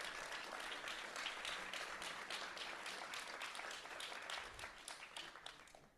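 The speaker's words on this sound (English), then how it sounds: "So one more round of applause for all of them." A symposium audience applauds in a dense, steady wash of clapping that fills the whole stretch, loud and even, easing only slightly at the very end.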